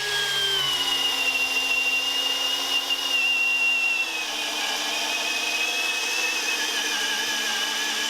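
A Milwaukee M18 FPD2 cordless drill running continuously, a close high-pitched motor whine that sags slightly in pitch midway and then holds steady, no voices.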